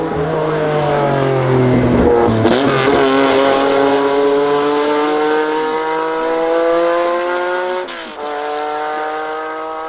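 A Ferrari-engined rally car at the Goodwood Festival of Speed, a loud, high-pitched engine wail climbing through the gears with sharp shift breaks, close by and passing, with no speech.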